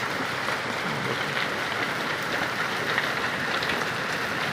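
Heavy rain pours steadily in Saudi Arabia, a dense, continuous hiss of drops hitting surfaces at a constant moderate level with no talk.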